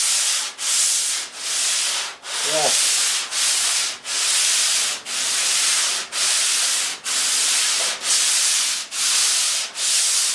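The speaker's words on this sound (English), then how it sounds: "Hand sanding is so much fun." A truck fender is sanded by hand with steady, rhythmic back-and-forth strokes, about a dozen even passes, loud and close, with a brief spoken word midway.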